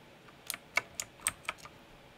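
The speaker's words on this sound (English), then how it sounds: "Someday I'll get used to the Mac keyboard." Typing on a Mac computer keyboard, five or six crisp, close key clicks spaced roughly a quarter second apart against a quiet background.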